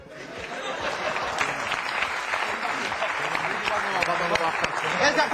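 An audience at a comedy awards show applauds, a dense, sustained wash of clapping that swells slightly toward the end, mixed with scattered chuckles and crowd chatter.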